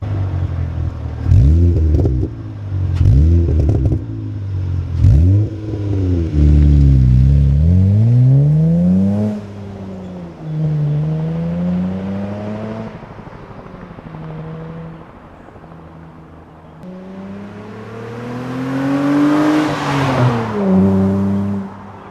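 A car is driven after its hydraulic clutch has been bled and the slave cylinder checked, engine revving up and down through repeated gear changes with rising and falling pitch sweeps, loud and close, no talking.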